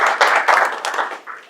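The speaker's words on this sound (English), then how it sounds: "Please give a round of applause to Ann." A short burst of clapping from a small audience, a brief flurry of hand claps that swells and then tapers off within about a second and a half.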